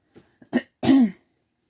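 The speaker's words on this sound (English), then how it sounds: "Let me clear my throat." A person clears their throat: a few short rasping catches, then one longer, voiced, gravelly rumble, close to the microphone in an otherwise quiet room.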